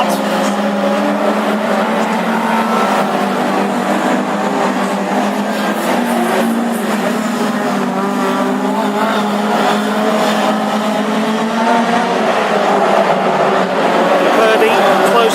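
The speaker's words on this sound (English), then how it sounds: "Thomas looking for a dive on the inside of Purdy, moving into turn 3 and out of 4" Hot rod race cars lapping an oval track at Cowdenbeath, a loud continuous roar of engines close by with the pitch swelling as they pass, under steady commentary.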